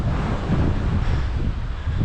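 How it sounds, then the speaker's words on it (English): Steady, heavy wind across an open park path buffets the microphone with a low, rumbling roar that never lets up. "Very windy park run here"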